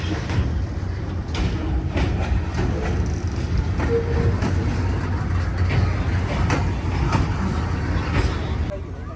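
A heavy freight train rumbles past steadily with rhythmic clanking of wagons, loud and close, continuous throughout with a faint voice now and then, at a station in Pakistan.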